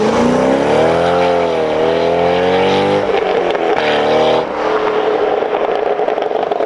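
C6 Corvette with a Corsa Sport exhaust roars past, the loud engine note rising and falling through acceleration and gear changes, a deep American rumble that turns to a rasp as it moves away.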